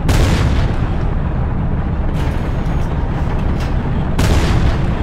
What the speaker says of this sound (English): Using this heavy tank right here, with my high explosive anti-tank shells